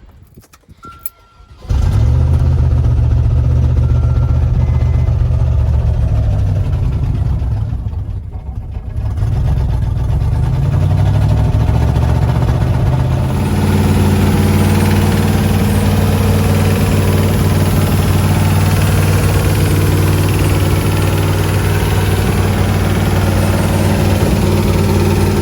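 A cheap 4x4 truck engine cranks and catches after a short quiet start, then settles into a loud, steady idle close by. The idle dips briefly in the middle and shifts tone later on.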